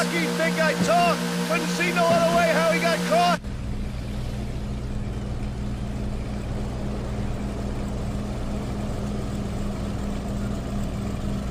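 A steady motorboat engine in GTA IV drones continuously, low and rumbling, after a short stretch of music at the start.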